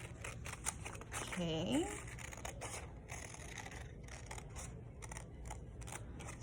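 Scissors snip out a paper porcupine cutout, a run of soft, quick cuts close by and faint, with a brief spoken word partway through.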